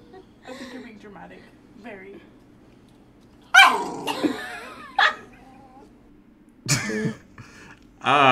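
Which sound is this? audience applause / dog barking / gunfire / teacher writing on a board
dog barking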